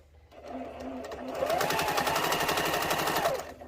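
A sewing machine stitches fabric for a Mickey Halloween table topper. It makes a close, steady mechanical whir that starts at a moderate pace and speeds up to a rapid, continuous hum, with no talking.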